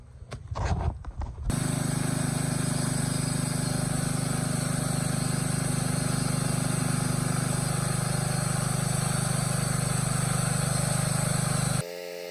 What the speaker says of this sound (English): But I'll go ahead and saw into it and see what she does.